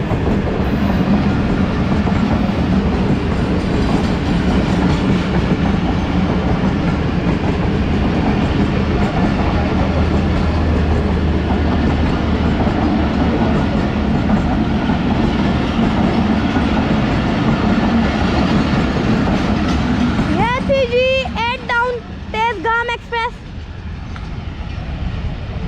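A passenger train runs between Kot Lakhpat and Lahore, its steady rumble loud and continuous, with the wheels' clickety-clack beating over the rails and a burst of higher squeal or screech near the end.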